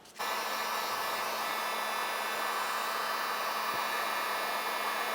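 Steady, loud whooshing blow of a heat gun or hair dryer warming the glue behind the grille badge on a 1999-2003 Toyota Solara, a constant hiss running unbroken from start to finish.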